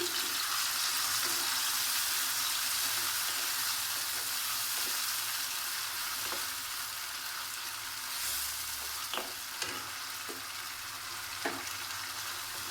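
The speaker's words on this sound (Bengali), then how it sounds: "তেল গরম হয়ে গেছে, গরম তেলের মধ্যে মোরলা মাছ দিয়ে দিচ্ছি" Small mola carplet fish fry in hot mustard oil in a pan over a medium gas flame, a loud, dense, continuous sizzle with scattered crackles and a few sharp pops, close and alone with no voices.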